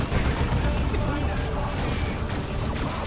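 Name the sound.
artillery fire at Eldar tank in Dawn of War II video game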